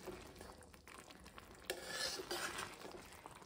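A spoon stirs Amritsari-style chickpea curry for bhature in a pot, with soft scraping, light clinks against the metal and a faint simmering sizzle underneath, close and fairly quiet, without speech.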